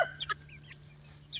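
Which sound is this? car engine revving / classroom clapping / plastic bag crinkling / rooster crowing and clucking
rooster crowing and clucking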